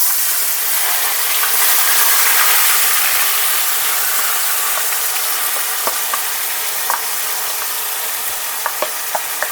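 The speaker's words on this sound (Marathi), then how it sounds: "मोहरी तडतडली." Mustard seeds crackle and sizzle in hot oil during tempering, a steady loud frying hiss with scattered sharp pops toward the end, no voices.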